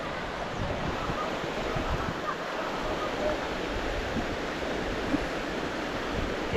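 A clear river flows in a rushing, continuous wash of water, loud and close, with no pauses and no voices.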